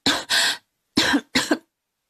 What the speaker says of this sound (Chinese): 怎么又咳嗽成这样？